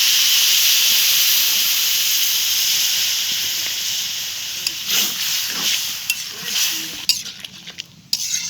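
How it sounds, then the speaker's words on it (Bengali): Water poured into prawn curry spices fried hot in a pan gives a loud steady steam hiss, which fades into bubbling, stirring and a few clinks of utensils against the pot. "চিংড়ি মাছের ঝোল মশলা দিয়ে ভালো করে ভাজা হয়ে গেছে। এবার আমি পানি দিয়ে দেব"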